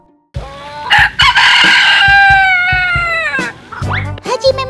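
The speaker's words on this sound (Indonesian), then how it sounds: "Soalnya Otan mau kenalan sama ayam dari Jepang ini nih" A Japanese-breed rooster crows loudly and close by, one long drawn-out call followed by a few short squawks.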